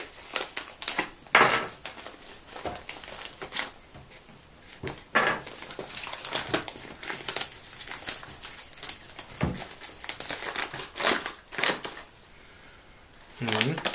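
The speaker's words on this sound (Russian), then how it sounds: "Открываем наш пакет с чаем" A plastic package of Koporye tea is opened with crinkling, rustling bursts that come and go over about fourteen seconds, close to the listener, with someone speaking between them.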